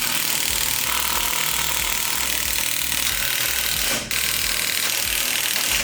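A power drill runs continuously and loudly while tightening bolts on a car's rear suspension shock mount, a dense grinding whir with one brief dip near the end and no speech.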